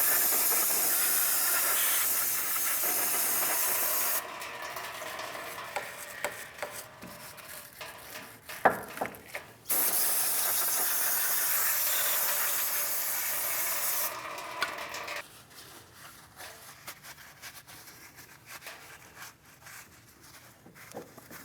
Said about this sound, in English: We'll use some parts cleaner and a wire brush.